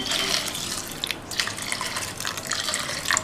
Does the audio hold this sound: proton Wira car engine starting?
no